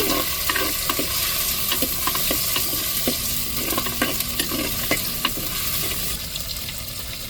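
Tomatoes and chilies drop into sizzling hot oil tempering for a blue crab curry, a loud, steady fry with a scraping stir and clinks of a spoon against the pan.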